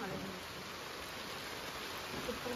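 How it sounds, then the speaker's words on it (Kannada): Heavy rain falls in a soft, constant hiss, faint and even throughout, with a few muffled voices barely under it. "ಮಳೆ ಜೋರ್ ಬರ್ತಾ ಇದೆ."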